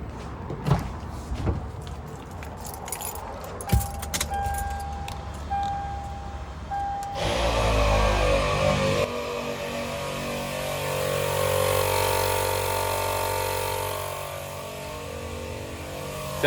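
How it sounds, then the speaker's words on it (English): An ARB air compressor on a Lexus GX470 running continuously, a steady mechanical hum that kicks in partway through after some clunks and handling noises, heard close up with no talking. "So as you can hear, the compressor didn't shut off when it sensed that there was an air leak"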